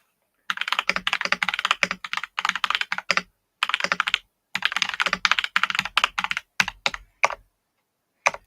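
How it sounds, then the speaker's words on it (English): Bursts of rapid clicky typing on a new mechanical keyboard with swappable switches, close and fairly loud, coming in short runs separated by brief pauses, with no one talking. "If you do hear things, that's my new keyboard. Nice mechanical with switches you can change."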